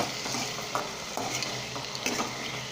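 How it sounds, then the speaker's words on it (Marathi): Potatoes fry and sizzle in a pan for sabudana khichdi, a steady close hiss broken by a few spatula scrapes as they are stirred. "आपला बटाटा फ्राय होत आहे"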